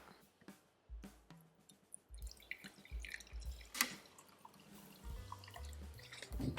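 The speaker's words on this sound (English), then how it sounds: "40 to 50 mLs of pure acetone in the tray" Pure acetone is poured into the tray of a gel nail remover, with faint liquid trickles and drips among small handling clicks and taps in a quiet room.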